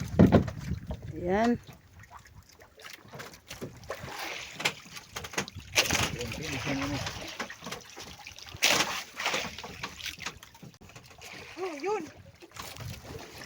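A small boat rocks on water with sloshing and splashing around the hull, while voices talk and call out intermittently.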